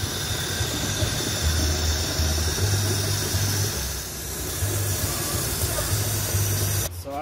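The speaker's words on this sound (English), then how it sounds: "You wanna make sure you rinse the flower very well." Water from a tap rinses squash flowers in a steady hissing spray, close and fairly loud, with a low hum underneath and a brief clatter at the end.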